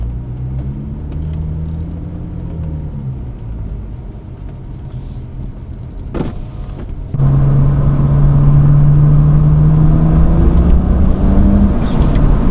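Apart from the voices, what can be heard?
BMW N54 car engine running while warming up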